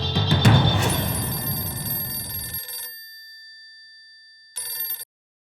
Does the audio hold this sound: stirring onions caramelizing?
no